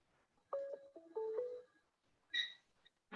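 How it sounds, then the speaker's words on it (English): A telephone rings during a recorded online meeting, giving a short run of faint electronic tones followed by a brighter beep, heard fairly quietly against near silence. "I got a phone ringing."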